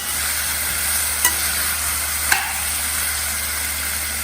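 A potato vegetable dish stirred in a pan for a Gujarati meal, a steady close sizzle of frying with two brief scrapes of the spoon against the pan, no voices.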